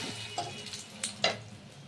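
Sugar stirring and frying in hot oil in a pan while making aloo dum, a soft continuous sizzle broken by a few brief scraping strokes of the spoon, close and fairly quiet.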